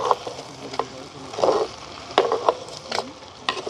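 Eggplant and onion sautéing in a hot pan in a village kitchen, with a steady close sizzle broken by a few louder bursts as the pieces are turned and stirred.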